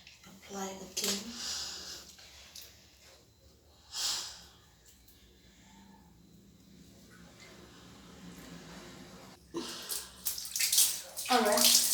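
Tap water runs and splashes in bursts as aloe vera is rinsed off skin, with breathing and a person talking in between the louder gushes near the start and end.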